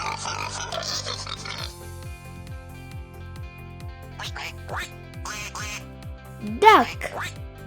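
A duck quacks several times in a farm-animal sound lesson, with a cheerful musical backing and a child-friendly voice speaking over parts of it, ending in one louder quack.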